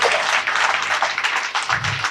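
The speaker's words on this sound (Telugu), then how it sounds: "అయితే గట్టిగా చప్పట్లు కొట్టండి" Audience at a meditation talk clapping loudly, a dense continuous patter of many hands with slight swells, close and steady throughout.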